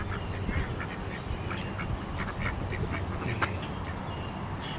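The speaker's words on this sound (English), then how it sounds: "Actually, a couple of them look like baby ducks." Ducks, including some ducklings, quacking at a pond in Mammoth Spring State Park, a steady chorus of close calls over outdoor background noise with no talking.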